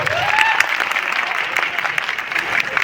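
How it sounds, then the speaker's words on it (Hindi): An audience at a seated RCM business meeting claps together in steady, dense applause, loud and close, with faint voices mixed in throughout. "तो एक बार ताली बजा दो नीचे बैठ।"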